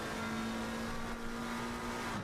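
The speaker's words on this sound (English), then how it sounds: "Hammer down, second gear, third gear," A GT3 race car in a racing video game at Laguna Seca revs hard and climbs through its gears, a faint steady engine whine holding one tone with a brief dip partway, no voices over it.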